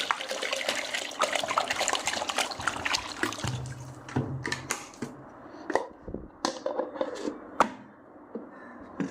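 Tap water runs steadily into a container in a home kitchen during biryani cooking, a continuous rushing splash with occasional clinks and knocks, fairly close and with no talking.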